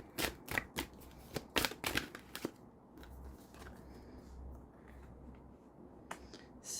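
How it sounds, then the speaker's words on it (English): Tarot cards are shuffled and pulled, making a quick run of sharp, close riffling snaps and flicks during the first few seconds, then giving way to quiet handling and soft room noise. "So let's just pull some support cards for each of these."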